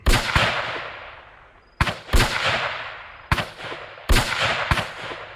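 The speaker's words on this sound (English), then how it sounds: "The woman remained perfectly still as the two men started shooting." Gunshots from two men firing in a horror audio drama, arriving in four bursts of sharp blasts, each pair of cracks trailing off into a long, loud reverberant decay, close and with no talk.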